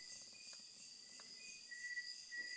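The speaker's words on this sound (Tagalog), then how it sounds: "marinig nyo yung mga kuliglig-kulisap" Crickets chirp in a steady high-pitched trill, faint and distant in an otherwise quiet night.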